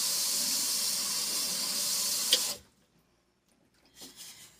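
Warm water runs from a tap for handwashing, a steady hissing flow for a couple of seconds that cuts off abruptly, followed by faint handling noises.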